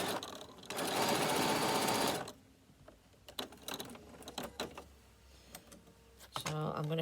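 Close sewing machine stitches a bag gusset in a fast, steady burst of about two seconds, followed by quieter clicks and handling noises and then a short second run of stitching.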